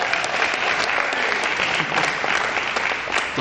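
An audience at a senior olympics kickoff for billiards applauds loudly and steadily, with dense continuous clapping from many people at close range for a few seconds.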